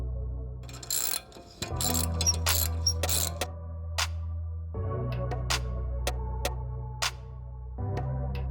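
Ratchet clicks in quick bursts while a one-time-use bolt on a BMW F30 xDrive front brake caliper is snugged down, with sharp ticks set over a steady low hum.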